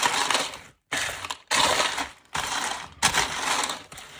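Chocolate holiday treats are stirred in a bowl, giving loud, close crunchy scraping and rattling in four long bursts separated by short pauses, with no talking.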